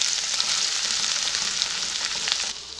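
Chopped garlic, about one and a half spoonfuls, sizzling in hot oil in a pan for a vegetable Manchurian gravy: a steady, dense frying hiss close by that drops slightly near the end, with no talking.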